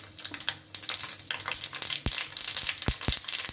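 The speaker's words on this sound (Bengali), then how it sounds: "ফোড়নটা বেশ চমকে উঠেছে।" Black mustard seeds and white sesame seeds crackling in hot oil for tempering, a close, dense run of sharp pops and spits over a soft steady sizzle.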